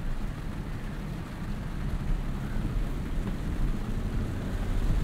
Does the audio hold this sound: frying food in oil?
no